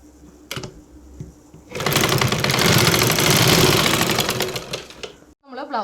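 A sewing machine hums steadily for about three seconds while stitching the folded bottom hem of a blouse, with brief clicks before and someone talking after it stops.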